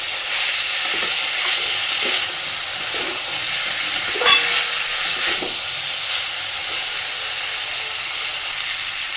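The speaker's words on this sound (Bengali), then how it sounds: "ফুলকপি আর আলুটাকে দিয়ে মশলার সাথে খুব ভালোভাবে এবার কষিয়ে নেব।" Cauliflower and potato pieces frying with spices in a pan, a continuous close sizzle with intermittent scraping stirs and one louder clatter, no voices.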